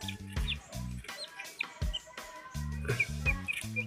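Baby chicks peep in quick, high little calls, mixed with soft clucking from nearby fowl, fairly close and quiet, without anyone talking.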